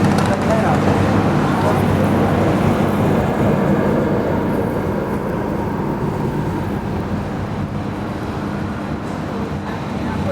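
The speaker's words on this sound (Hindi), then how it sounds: "सो 1:31 पर हमारी ट्रेन निकल रही है" The Saurashtra Janta Express pulls out of Junagadh Junction with a continuous low rumble and rolling rail noise, steady and fairly loud throughout, with indistinct voices mixed in.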